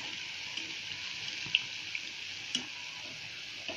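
Sweet gulgule dumplings fry gently in a pan over low heat, giving a steady, soft, close sizzle with a few faint pops.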